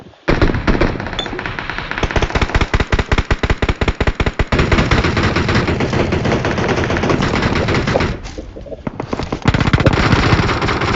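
Loud automatic gunfire in the PUBG video game: rapid bursts of shots fire in a steady stream, briefly drop out, then resume at full intensity.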